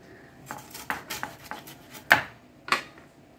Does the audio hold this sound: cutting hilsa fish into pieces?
yes